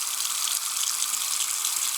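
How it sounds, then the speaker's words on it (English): Bathroom sink faucet running with the stopper up, a steady broadband rush of water pouring into the basin, constant and close for the whole stretch with no talking. "I'm just going to turn the water on and you'll watch it puddle"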